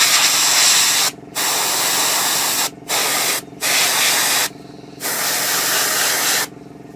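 An aerosol spray of varnish coats a 1/35 scale Takom British Chieftain Mk 10 model tank, sounding as a loud, close hiss in several bursts separated by short pauses.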